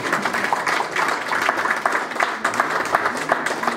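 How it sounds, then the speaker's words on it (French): Steady applause from an audience at a foundation launch event in Montreal, dense clapping at an even level throughout, with faint talk mixed in. "on peut applaudir aussi pour le frère"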